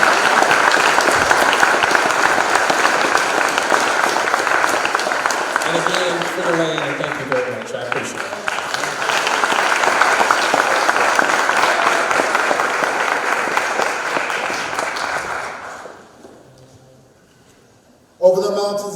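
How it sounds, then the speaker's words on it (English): Audience applause fills a college hall, loud and sustained, with some speech over it; it fades out near the end before a brief burst returns. "Give Tougaloo a round of applause."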